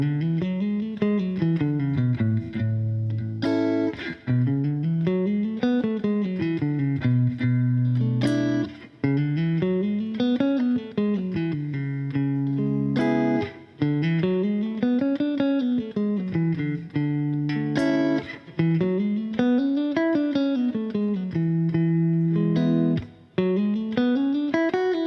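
Electric guitar with an effects-laden, slightly distorted tone running a B Dorian scale up and down in repeated ascending and descending runs of sustained notes, loud and steady with brief gaps between passes and no talking.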